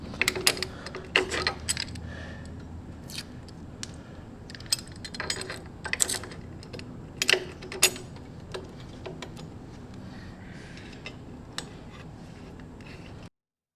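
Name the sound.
tightening bolts on motorcycle kickstand extender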